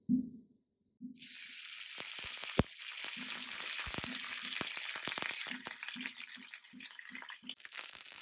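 Meat slices sizzle and spit in a small Nitori 15 cm cast-iron skillet, a loud continuous frying hiss starting after a second, with scattered crackles and pops and a few brief low sounds between.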